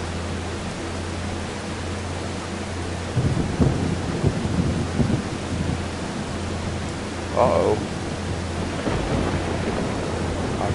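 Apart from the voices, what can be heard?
thunder in video game Farming Simulator 25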